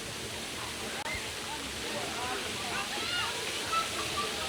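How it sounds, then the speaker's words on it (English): Splashing water at an outdoor evening water park in Forest City, busy with kids, forms a steady dense wash of noise that never lets up, with someone talking over it. "There's a water park with kids everywhere."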